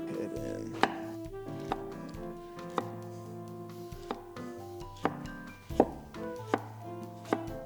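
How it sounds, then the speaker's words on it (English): Chef's knife julienning carrots on a cutting board, sharp chopping knocks landing roughly once a second, with quieter slicing between strikes under faint background music. "what I'm gonna do is cut off ends and then julienne them"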